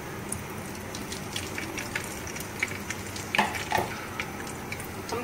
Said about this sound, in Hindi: सबसे पहले हम करेंगे भिंडी को कुकिंग ऑयल में फ्राई करेंगे।